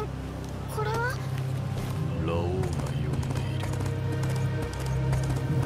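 Horse sounds from a video game, with clopping hooves and a whinny amid steady game music and effects, heard under ongoing talk.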